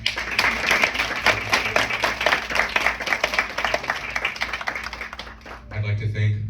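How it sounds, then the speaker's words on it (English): An audience at a kindergarten winter show applauds the teachers with sustained, dense clapping that fades out after about five seconds, followed by a low hum. "An applause for our teachers."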